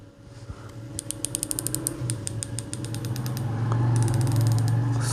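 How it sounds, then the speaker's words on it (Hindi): Rapid, crisp mechanical clicks from the turret of a Hawke Panorama 4-12x40 rifle scope come in several quick runs, turned notch by notch, over a low steady hum. "क्लिक्स की आवाज़ आ रही है।"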